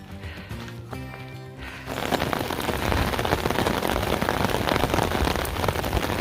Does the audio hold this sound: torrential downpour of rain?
yes